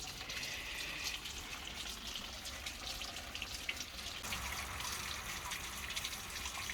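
Spring water runs steadily from a roadside spring as people stop to fill bottles outdoors, a continuous close splashing gush with no talking.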